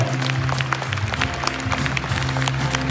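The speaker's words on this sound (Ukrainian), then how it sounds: "послухай, як тобі всі аплодують" A crowd at an award ceremony claps continuously and energetically, dense applause filling the space, with a sustained low tone underneath.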